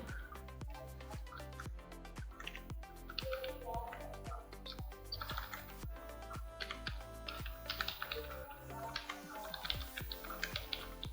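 A computer keyboard is typed on while data is entered into an Excel spreadsheet, giving a steady run of close, crisp key clicks at a brisk, even rhythm with a few faster bursts.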